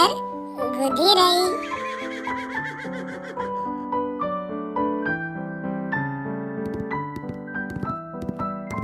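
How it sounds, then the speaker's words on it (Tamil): A horse whinnies in a loud, wavering neigh near the start, heard over a steady backdrop of bright children's music that continues after the call fades. "இந்த விலங்கின் பெயர் குதிரை."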